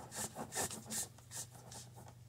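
A metal lid band is twisted down onto a glass jar with a plastic piece under the lid, making a run of faint scraping, rubbing turns in a quick uneven rhythm, close and quiet.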